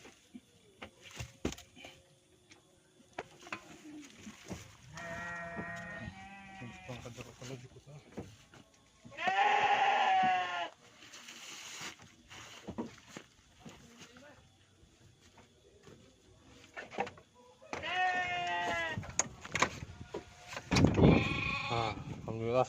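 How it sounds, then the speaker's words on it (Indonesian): Goats bleat in a goat pen, several wavering cries in separate bursts, close and loud, mixed with people talking and rustling handling noises. "Geus nepi di kandang embek, geus nepi di kandang embek."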